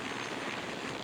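A helicopter arriving at a landing pad on a tour stop near Springdale, Utah, heard as a faint, steady rotor and engine rumble, distant and continuous over the brief moment.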